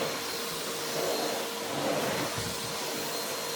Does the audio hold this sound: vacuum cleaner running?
yes